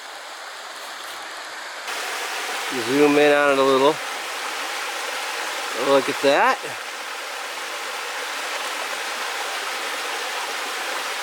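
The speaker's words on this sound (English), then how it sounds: "There's a little waterfall over there." Small waterfall and clear mountain stream on a trail: a steady, broad rush of flowing water fills the whole clip, close and even, with a voice speaking briefly twice over it.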